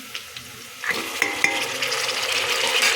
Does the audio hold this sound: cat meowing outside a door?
no